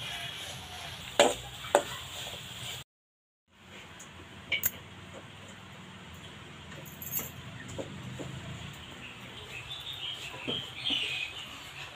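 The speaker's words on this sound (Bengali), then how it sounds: "নাড়িয়ে চাড়িয়ে চিনির যে শিরাটা আছে এটা কিন্তু একেবারেই শুকনো শুকনো করা লাগবে।" Sugar syrup being stirred continuously in a pan until it dries for murali, a low frying hiss with scraping strokes, a brief dropout early on, and faint bird chirps in the background.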